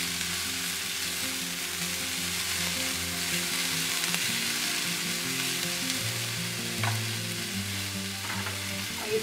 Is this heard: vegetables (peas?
yes